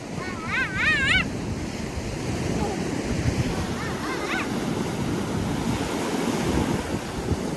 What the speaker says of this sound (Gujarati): દરિયા મસ્ત નો ભરેલો છે તો